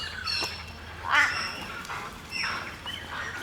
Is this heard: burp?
no